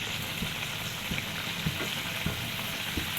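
Tilapia fish curry simmers over low heat, giving a steady soft sizzle with gentle periodic stirring thumps, close and alone without voices.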